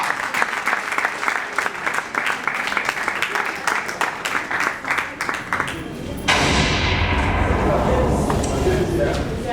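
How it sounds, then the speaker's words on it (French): An audience at a comedy show applauds Madame Tounissa, steady clapping for about six seconds before it swells into a louder, dense roar of applause mixed with crowd noise. "Et je vous prie d'applaudir déjà très très fort pour Madame Tounissa"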